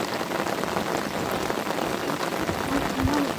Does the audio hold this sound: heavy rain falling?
yes